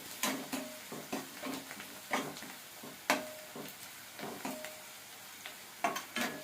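Spices being stirred into an onion mixture in a pan, a soft irregular scraping and tapping of a spoon against the pan with a faint sizzle underneath, fairly quiet and close.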